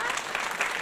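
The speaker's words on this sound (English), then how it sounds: "Go on, clap if you like." Dense applause from an audience, steady and moderately loud, a brief wash of many hands clapping.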